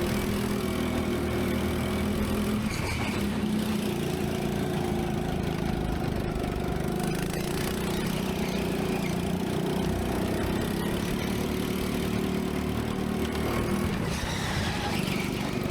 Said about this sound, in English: The engine sounds more like a lawnmower than a kart engine.